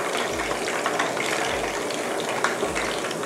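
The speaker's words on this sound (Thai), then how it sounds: "เด็ดน้ำมันให้มากที่สุดเลยค่ะ" Freshly fried red tilapia, crisp and golden, is lifted to drain, giving a steady, close hiss of hot oil dripping and sizzling with no break throughout.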